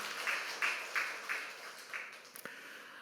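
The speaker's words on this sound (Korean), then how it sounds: "우리 좀 위로의 박수를 좀 해드리겠습니다" A church congregation clapping in applause during a Sunday service, a soft, slightly distant patter of hands in loose rhythmic swells that fade toward the end.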